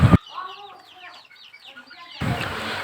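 Several newly acquired chickens cluck busily while being fed rice, a steady run of near, overlapping clucks between bursts of louder background noise at the start and end.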